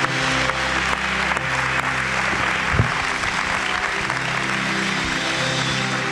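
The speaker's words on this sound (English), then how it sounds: "Let's give the Lord a big hand clap today." A church congregation gives a big, sustained hand clap at the close of a service, broad steady applause with a faint low hum underneath and no voices on top.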